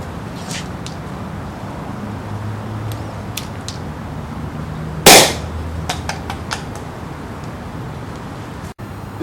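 A MadBull XM995 airsoft shotgun fires at a cardboard box target 50 feet away, one sharp, loud crack standing out over faint outdoor background noise, with several quieter clicks and ticks around it and no talking.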